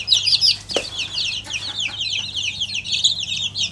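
Chickens cluck and chatter continuously at close range in a farmyard, with a brief sharp knock partway through and no talking.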